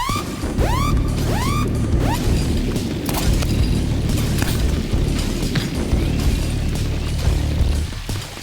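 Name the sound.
grenade explosion in a video game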